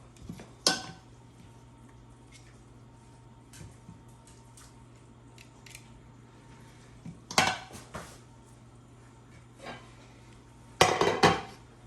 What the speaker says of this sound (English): Just move all this over into a Tupperware bowl.